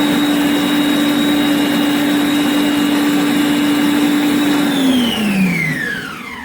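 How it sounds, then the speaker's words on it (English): A ThermoCook Pro M 2.0 kitchen machine grinds nut butter at speed 8, giving a loud, steady motor whine that holds an even pitch, then drops and winds down near the end. "we're going to grind it again for another 4 minutes on about speed 8"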